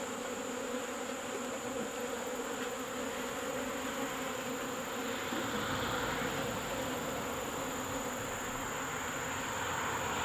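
Honeybees buzz in a dense, continuous drone while a nuc hive is being installed, steady and fairly close with no voices.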